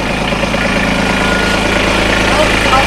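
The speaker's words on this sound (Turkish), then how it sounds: "Evet çocuklar, traktör." A tractor engine idles close by in a continuous low, vibrating rumble, and voices may be faintly present underneath.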